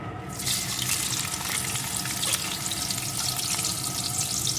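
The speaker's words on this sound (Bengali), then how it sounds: "এখন এই আলুটাকে একটু ভেজে নেব" Potato pieces fry in a pan with dried red chillies, a bay leaf and salt, giving a steady, dense sizzle that holds evenly throughout, close and fairly loud, with no one talking.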